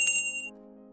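A bright bell ding for a cat video game strikes once, its high ringing tone cutting off quickly while a lower hum lingers and fades.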